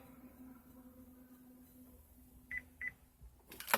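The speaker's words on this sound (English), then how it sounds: "hold both, lock and unlock till you hear 2 beep" Two short, high electronic beeps in quick succession from a Chevy keyless entry fob programming confirmation over quiet background, followed by a brief clatter at the end.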